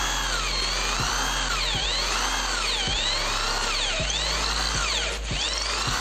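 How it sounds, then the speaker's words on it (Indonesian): A power drill bores into hard wood, its motor whining and rising and falling in pitch as it strains and bogs down under load, with repeated pulses as pressure is applied; no talking. "memang agak berat ya untuk mengebor kayu seperti ini"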